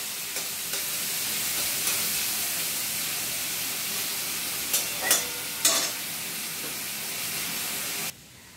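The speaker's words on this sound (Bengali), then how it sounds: "এবার পেঁয়াজের সঙ্গে চিংড়ি মাছটা একটু ভাজা ভাজা হবে।" Shrimp fry with onions in a pan, giving a steady moderate sizzle with a few sharper crackles and stirring scrapes partway through, before the sound cuts off abruptly near the end.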